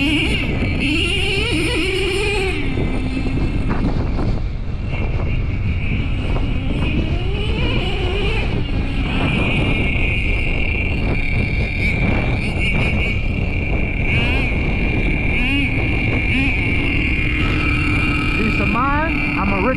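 A Traxxas T-Maxx RC truck's OS .18TM nitro engine with an RD Logics dual pipe, a constant high-pitched buzzing whine that revs up and down in sweeping pitches, loud and close with wind noise throughout.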